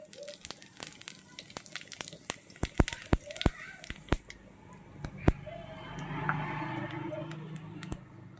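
A bay leaf and whole cumin seeds dropped into hot oil left from frying potatoes sizzle with a steady hiss, scattered sharp pops and crackles throughout, close and moderately loud.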